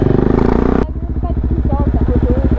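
A motorcycle engine running in a tunnel, a loud throbbing idle with rapid rhythmic pulses, with a harsher burst at first before settling into a steady putter.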